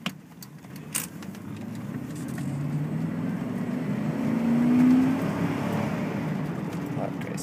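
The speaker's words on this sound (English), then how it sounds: "the engine really roars on this truck" A 1998 Chevy Silverado Z71 4x4 pickup's engine rumbles low and steady from inside the cab, swelling as the truck accelerates, with light rattles and clicks near the start.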